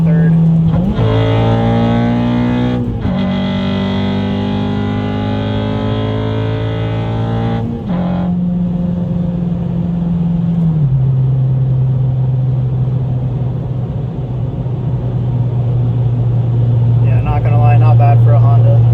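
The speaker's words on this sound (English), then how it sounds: "Fourth gear, I'm gonna drop it in third." A ninth-generation Honda Civic Si engine drones steadily, its pitch stepping down as the driver shifts from fourth into third, while someone talks over the cabin hum.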